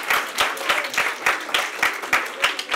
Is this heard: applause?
yes